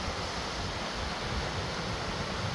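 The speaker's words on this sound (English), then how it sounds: "waterfall's just right up ahead" A waterfall rushes in a snowy forest, heard as a steady, loud wash of broadband noise that stays constant throughout, with no voices.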